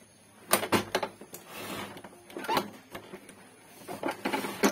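An Epson L5190 inkjet printer runs up close, giving off a string of clattering mechanical clicks and short whirring bursts in an uneven rhythm, with no talk over it.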